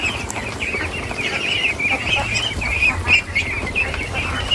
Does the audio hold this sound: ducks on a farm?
yes